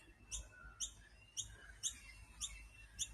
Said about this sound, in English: that bird is called a noisy miner